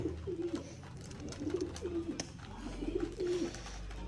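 Loft pigeons, including Cheena birds, give repeated low throaty coos in several rhythmic bursts close by, over a steady background hum.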